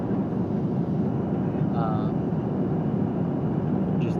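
Steady, broad airplane cabin rumble during a night flight, a loud even drone that continues throughout, with a brief faint tonal chime partway through.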